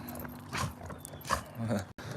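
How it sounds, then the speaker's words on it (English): A pet dog makes soft whimpering and snuffling sounds at a moderate distance, brief scattered noises over a quiet indoor background. "if you hear a dog"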